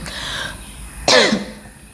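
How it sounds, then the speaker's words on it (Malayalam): A person gives one sharp, close cough, a short burst after a stretch of quiet breathing and room noise. "അയ്യോ എനിക്ക് ചുമയുണ്ട്"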